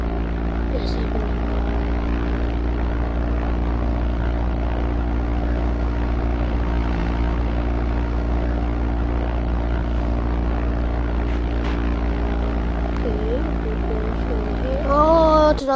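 Airplane engine drone from a flight simulator video game, a steady loud propeller hum with layered tonal harmonics running throughout, shifting slightly near the end as the engine is cut.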